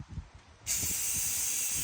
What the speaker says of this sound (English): My boy spraying that frame.